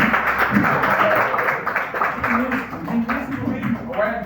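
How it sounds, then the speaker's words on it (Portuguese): A church congregation applauds at an evening service, loud and close rhythmic clapping heard under and alongside a speaking voice. "vamos receber com palmas para Jesus"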